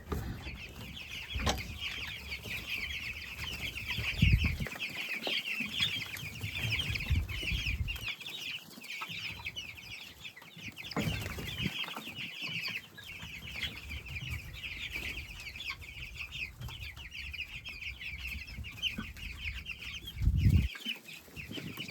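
Young chickens in a brooder on a pig and poultry farm: a dense, continuous chorus of high peeping from many chicks, steady throughout with occasional low bumps and rustles.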